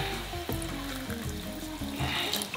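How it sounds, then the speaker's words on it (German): Water added to a blender jar holding tuna, a steady running, splashing wash with a few low gurgles, close and fairly loud with no talk. "Ein bisschen Wasser dazu."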